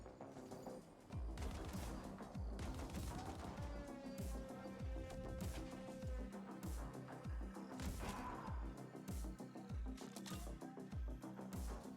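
Continuous minigun fire in the sci-fi shooter The Ascent, a dense unbroken stream of rapid shots with repeated heavy impacts and crashes, loud and close, running nearly the full length without any voices.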